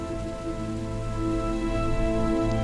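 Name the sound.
rain falling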